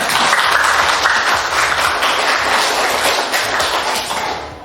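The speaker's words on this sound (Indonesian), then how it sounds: "Beri tepuk tangan untuk semuanya." A classroom of students applauds the groups after their presentations, dense and loud sustained clapping that fills the whole stretch before fading slightly at the end.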